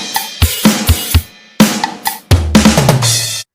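A real drum kit plays a beat at standard tempo for an intro of a song: a quick run of close, punchy kick, snare and tom hits ending in a ringing crash, with no talking.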